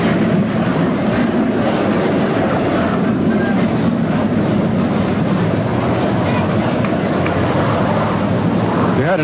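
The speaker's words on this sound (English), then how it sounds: "An extraneous noise, then there was a jet high overhead." A jet aircraft passes high overhead during a 1952 World Series Game 6 baseball radio broadcast, heard as a steady, broad, distant roar that holds unchanged for the whole stretch, with no voices over it.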